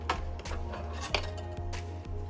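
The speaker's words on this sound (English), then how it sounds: "I don't have one, so I'm using a whisk, and it works just the same" A metal whisk works through warm mashed sweet potatoes in a bowl, giving a run of rhythmic clinks and scrapes against the side, close and fairly loud.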